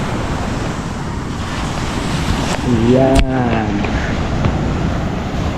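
Sea waves at Bukana wash steadily with heavy wind buffeting the microphone, and a voice speaks briefly over the surf.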